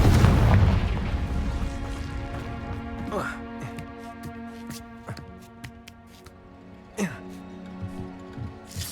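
Confringo spell blasts in Hogwarts Legacy: a heavy explosive boom opens, followed by several sharper bursts and pops spaced a few seconds apart, with a voice heard among them.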